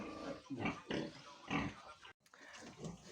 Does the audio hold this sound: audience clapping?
no